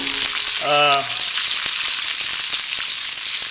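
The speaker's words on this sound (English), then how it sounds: "Next, we're gonna add onions." Onions frying in bacon grease, giving a loud, dense, continuous sizzle heard close up, with a short voiced sound briefly rising above the hiss near the start.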